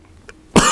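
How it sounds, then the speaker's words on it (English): A single sharp, loud cough bursts out abruptly after a near-silent pause, from someone speaking at a public meeting about voting. "I'll be coughing a bit tonight"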